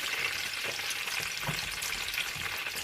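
Chinese spring rolls with chicken fry steadily in hot oil, a continuous close sizzle with soft crackles and the occasional stir, no voices over it.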